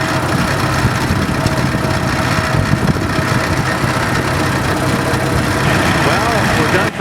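Several tractors rumble and idle at a parade, a steady loud mid-low engine drone that holds unbroken throughout, with faint voices mixed in.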